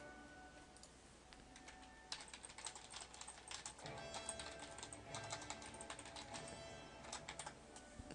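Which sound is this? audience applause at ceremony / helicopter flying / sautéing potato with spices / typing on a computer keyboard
typing on a computer keyboard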